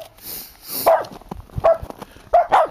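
Dogs bark excitedly outdoors in snow and ice after an ice storm, with several sharp yips and barks in an irregular rhythm, close and loud.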